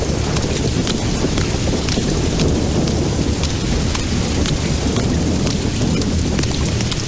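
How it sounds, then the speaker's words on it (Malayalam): Heavy rain pours down at night in a dense, continuous roar with constant patter, wind and possible thunder behind it, loud and unbroken throughout, with no voices. "എന്തൊരു മഴയല്ലേ"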